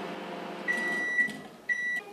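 Microwave oven heating chopped vegetables such as pineapple, red and yellow capsicum and apple, chiming as it finishes: two clear electronic beeps, the first longer, ringing over a low steady appliance hum.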